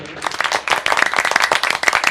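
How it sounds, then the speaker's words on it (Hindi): Audience at a Hindi kavi sammelan poetry recital claps loudly and steadily, a dense crackle of many hands running for a couple of seconds. "एक बार जोरदार तालियां बजाइए"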